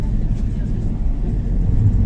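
A taxi cab driving to the airport gives a steady low engine and road rumble heard from inside the car, continuous for the whole stretch.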